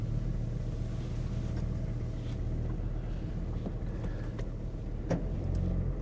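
A track car engine with burnt valves idles with an uneven, misfiring low rumble, recorded close under wind buffeting with occasional sharp clicks.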